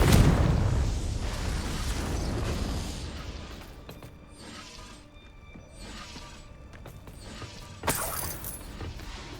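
A Confringo fire spell blasts in Hogwarts Legacy, a loud burst at the start that rumbles and settles into game ambience, with a sharp crack near the end.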